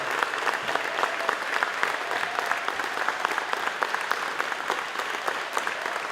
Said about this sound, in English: would everybody give them the round of applause that they deserve.